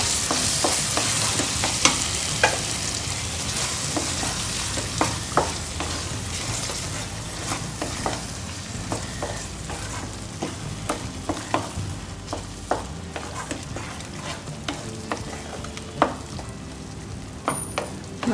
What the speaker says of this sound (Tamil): அரைச்ச மசாலா உள்ளே சேர்த்துட்டு நல்லா கலக்கி விட்டுடலாம்.